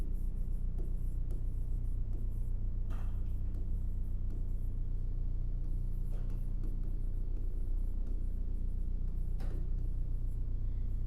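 Chalk or marker scratching across a classroom board in short, quiet strokes during an English grammar lesson, heard alone over a low room hum.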